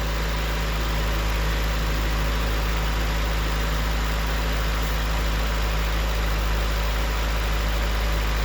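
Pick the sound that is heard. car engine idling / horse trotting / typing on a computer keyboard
car engine idling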